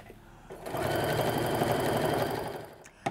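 Sewing machine running a sustained stitching burst while joining t-shirt quilt blocks into a row, close and steady with a fast even mechanical whir, starting and stopping at the edges.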